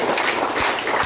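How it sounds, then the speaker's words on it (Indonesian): A crowd at an Indonesian community gathering claps together in a brief, dense burst of applause, loud and close, with no talking over it. "Tepuk tangan"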